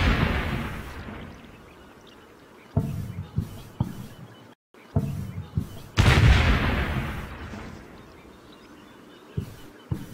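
Mortar rounds in Combat Mission: Battle for Normandy fired and landing in bursts, a sharp heavy blast followed by a cluster of quicker thuds and a few scattered later impacts, with long rumbling tails and faint background noise.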